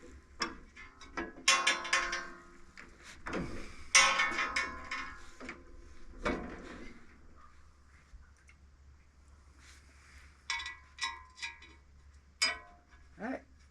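An Allen wrench spins a nut on the large edger blade of a Mobile Dimension sawmill, giving quiet metallic ratcheting clicks and scrapes in irregular bursts, close up and with pauses between them.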